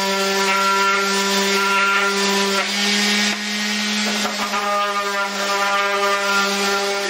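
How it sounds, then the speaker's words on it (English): A Ryobi RS290G electric orbital sander sands a splintery wooden board with a steady, loud motor whine and a rough scratching buzz that shifts slightly in pitch as pressure changes. "Let's sand this."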